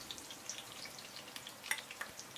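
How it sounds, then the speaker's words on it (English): Onions frying in hot oil in a heavy cast iron pot for an Indian railway mutton curry, giving a quiet, steady crackle with scattered pops and sizzles throughout. "Heat some oil in a heavy cast iron pot and then add the onions into the pot"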